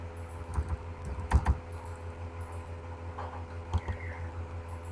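Someone types on a computer keyboard, tapping out a short burst of close, quiet, irregular keystrokes over a faint steady hum, with no voices.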